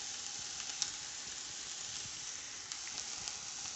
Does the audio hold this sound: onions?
yes